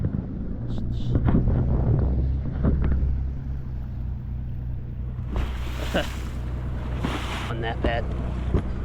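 A boat's engine drones over wind buffeting the microphone on Choctawhatchee Bay near Destin, with water slapping and rushing as it passes close by, while a person speaks briefly.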